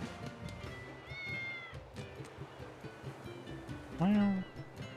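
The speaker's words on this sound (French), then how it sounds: "Je me disais, j'entends des matous." Cat meows ring out in the video game Tales of Berseria, a couple of drawn-out calls early on and one louder, sharper meow near the end, over busy game music and background talk.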